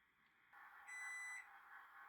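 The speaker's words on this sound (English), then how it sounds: "That is the timer." An electronic timer beeps steadily at a high pitch, a short burst of rapid tones standing out over a quiet room hum.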